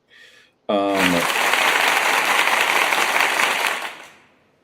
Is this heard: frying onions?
no